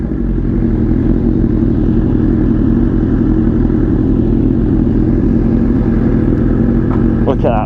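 A Suzuki GSX-S 1000 motorcycle engine idles with a steady, close low rumble that holds constant for the whole stretch, with a brief higher mechanical note near the end.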